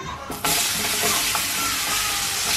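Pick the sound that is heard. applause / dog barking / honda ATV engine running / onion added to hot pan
onion added to hot pan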